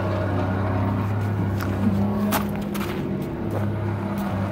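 A Harbor Freight battery-powered transfer pump draws hydraulic fluid out of the tank of a Putzmeister concrete line pump, giving a steady low motor hum with a constant drone throughout and a few faint clicks on top.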